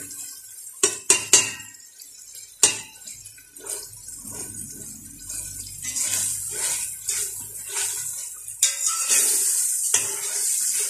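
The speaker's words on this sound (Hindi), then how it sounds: "3 मिनट भूनेंगे।" Meat and pumpkin curry with peas sautéing in a pot in a home kitchen: a few sharp metal clanks and scrapes early on, then a steady hiss of sizzling that grows fuller and louder.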